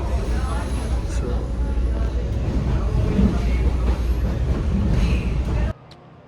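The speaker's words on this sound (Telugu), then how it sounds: "ట్రైన్ ఎక్కాను. ఇదే డబ్బాలండి ట్రైన్." Passenger train on a Toronto rail line, heard from inside the car: a loud, steady low rumble and rattle that runs for several seconds, then drops abruptly to quiet.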